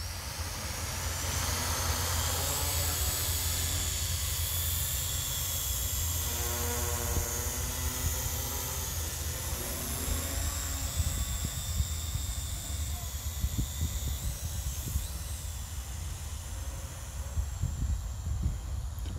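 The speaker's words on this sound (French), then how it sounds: "je vais tester ce fameux drone qui fait du bruit" A Q333B drone flies with noisy motors, giving a steady loud buzzing whine that shifts in pitch as it manoeuvres, with some wind-like hiss and thumps toward the end.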